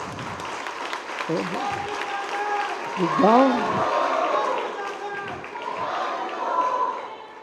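Crowd applause at a Digambar Jain religious gathering in Bhilai, a sustained clapping wash filling the clip, with voices talking over it at moments.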